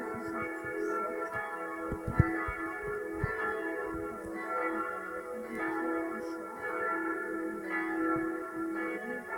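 A historic church bell cast in 1367 rings out in a French church, with slow, regularly spaced strokes whose sustained overtones hang and overlap, resonant and moderately distant amid a soft background hum.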